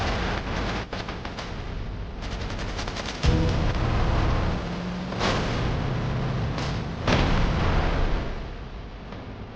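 Artillery fire mission in a Battle Brothers-style tactical strategy game: repeated heavy booms and sharp bursts of gunfire, loud and close, with several sustained barrages in overlapping waves.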